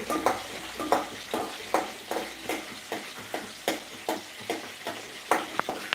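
Garlic and curry leaves fry in oil for mango pickle, a spoon scraping the pan about twice a second over a soft sizzle, close and quiet, with no talking.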